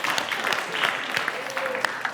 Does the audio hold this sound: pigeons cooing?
no